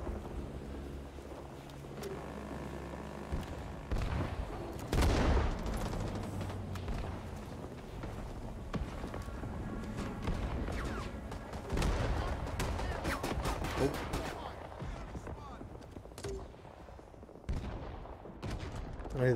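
Gunfire in Rising Storm 2: Vietnam, with scattered sharp shots and bursts, a loud cluster around five seconds and more crackling volleys later, mixed with battlefield noise and occasional voices.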